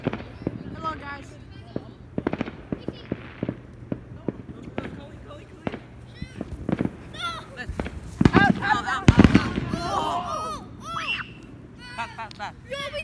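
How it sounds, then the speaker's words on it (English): Fireworks burst in a series of sharp, irregular bangs, some near and loud and some fainter, while people talk and shout over them during an outdoor game. "We like just saw the fireworks."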